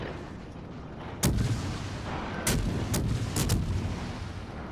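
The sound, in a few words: warship guns and torpedoes firing in World of Warships video game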